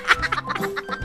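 Chicken in a survival video game, a quick run of several short clucks in an uneven, choppy rhythm, close and clear.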